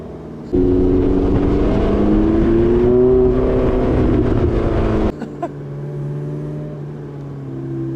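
A Porsche 918 Spyder's naturally aspirated V8 snaps to a loud, rising rev from inside the cabin, holds and climbs, then drops sharply to a lower steady hum with a couple of mechanical clicks.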